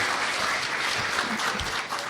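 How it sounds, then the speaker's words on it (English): An audience at an international conference on forest biobased materials gives a continuous round of applause, moderately loud and even, a dense wash of many hands clapping together without speech on top. "give an applause to them already, because they deserve it"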